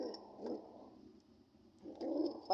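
Soft, low cooing of pigeons, a few muffled coos in two bursts separated by a brief lull, fairly close but quiet.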